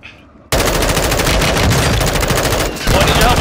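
Dense, continuous automatic gunfire in the Call of Duty video game, starting abruptly after a brief quiet moment and roaring loud and close for several seconds with rapid overlapping shots.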